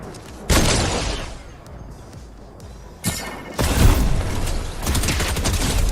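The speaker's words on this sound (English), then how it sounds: "that is why you use the Combat SMG" Combat SMG fire in a PS5 shooter video game comes as loud, noisy bursts: a sharp burst early on, a quieter stretch, then heavier sustained firing toward the end.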